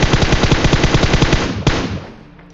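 Automatic rifle fire from a prone shooter in a battle royale game: a loud, close burst of rapid, evenly spaced shots lasting over a second, then one final crack and a fading echo.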